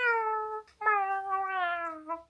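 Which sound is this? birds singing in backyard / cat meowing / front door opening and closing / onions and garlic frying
cat meowing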